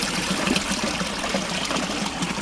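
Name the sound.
spring water trickling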